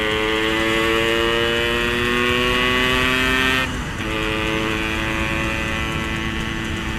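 Yamaha RX King two-stroke motorcycle fitted with an Altech C20 exhaust, revving loudly and steadily close by, its pitch holding high before dropping briefly midway and settling back into a sustained rasping drone.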